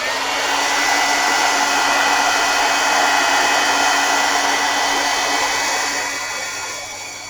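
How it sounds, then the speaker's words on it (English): A heat tool blows hot air to melt embossing powder on a stamped card, giving a loud, steady whirring blast like a hair dryer that runs without a break and tapers off near the end. "so let's get the heat tool out."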